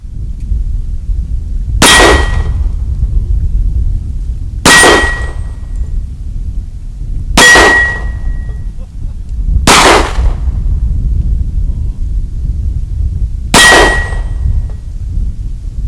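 A Connan .357 revolver fires five spaced shots at steel targets outdoors, each sharp crack followed by a bright metallic ring that lingers for about a second, with quiet gaps between.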